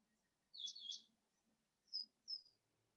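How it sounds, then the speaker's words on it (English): Birds chirp outdoors in short, bright calls: one brief twittering phrase, then two quick single chirps, heard clearly against a quiet background. "Even the birds here want to get involved in this"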